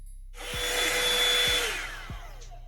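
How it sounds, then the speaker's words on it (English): A Revlon One Step hair dryer blows steadily at close range, a broad, loud airy whoosh with a faint whine, lasting a few seconds as it dries hair, with no talking. "I loved blow drying my hair with this every second."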